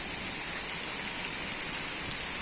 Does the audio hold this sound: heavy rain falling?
yes